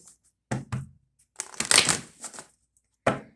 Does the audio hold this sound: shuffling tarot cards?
yes